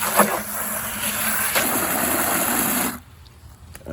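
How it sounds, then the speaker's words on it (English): Water gushes steadily into the bottom of a bucket used for propagating fruit tree and bush cuttings, loud and close for about three seconds before stopping abruptly. "Last step, water in the bottom of the bucket."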